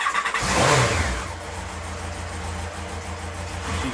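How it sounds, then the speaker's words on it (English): A Yamaha XJR motorbike with its fuel tank removed cranks and fires up, its engine catching with a loud burst of revving before settling into a steady, rough-running idle close by. "I'm going to try and start the bike"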